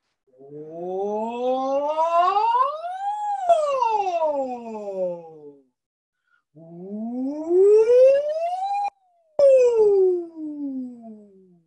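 A group of voices imitates sirens during a vocal warm-up, sliding smoothly up to a peak and back down in two long wailing sweeps with a short pause between them.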